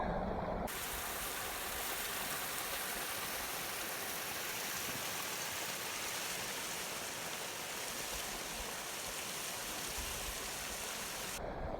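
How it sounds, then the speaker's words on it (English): A thermal creek in Yellowstone flowing beside a trail between two geysers, a steady, broad rushing and babbling of water, close and continuous for the whole stretch with no voices. "the trail between the two geysers goes right along this kind of thermal creek"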